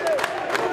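Football supporters at a Náutico match cheering in a dense, steady roar that stays loud and close for the whole moment, with voices blending into one another.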